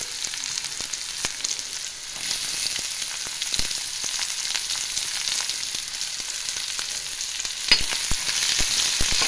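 Ridge gourd pieces frying in a hot pan for a chana dal curry, giving a steady, close crackling sizzle with scattered sharp pops and no voices throughout.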